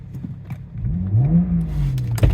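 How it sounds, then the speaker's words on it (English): A BMW 335i E92 coupe engine idles with a low, steady hum, its pitch rising and falling gently in a brief rev, with a small clink near the end. "That engine is just lovely."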